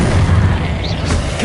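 An Incendio fire spell cast in the video game Hogwarts Legacy gives a heavy, booming burst of flame with crackling, rumbling low end and a brief whooshing sweep, loud and close, with no talk over it.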